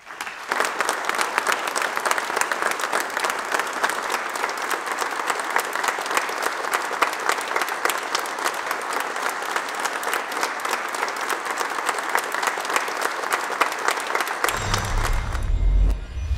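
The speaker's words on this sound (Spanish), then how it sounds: "despidamos a nuestro mentor rindiéndole un minuto de aplausos." At a posthumous memorial tribute, an audience holds a minute of applause: loud, dense, sustained clapping that runs evenly for about fourteen seconds before it ends in a brief low rumble.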